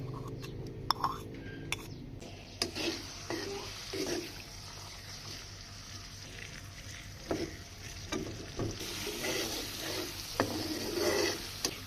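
Garlic paste and ginger paste frying in hot cooking oil in a karahi, a steady close sizzle broken by scattered metal clinks and scraping stirs of a spoon against the pan.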